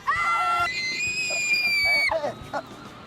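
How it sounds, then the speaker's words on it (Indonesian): A woman lets out a loud, sustained high-pitched scream that wavers and breaks off, followed by a short gasping cry. "Mau teriak lebih kencang lagi nggak?"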